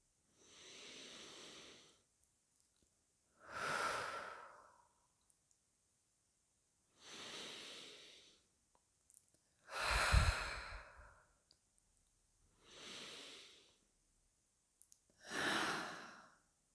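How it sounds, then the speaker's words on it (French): Six slow, deep breaths, alternating inhales and exhales of about two seconds each, separated by quiet gaps, close and soft with an airy hiss. "Et prenez 3 profondes inspirations et expirations."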